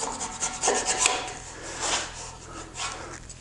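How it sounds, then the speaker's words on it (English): A blade scrapes a wood block clean for a rough-sawn texture effect, several close rasping strokes in uneven bursts, loudest early and tapering off toward the end. "Scrape this side clean."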